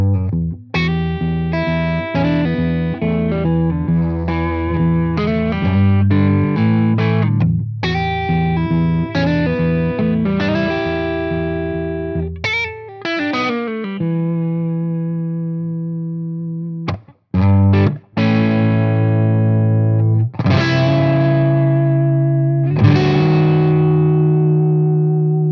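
An electric guitar plays through a Victory Sheriff 44 amp on the clean channel with the gain raised toward a hairy, bluesy edge. Picked notes and chords ring out with sustain, separated by a couple of brief pauses, loud and alone.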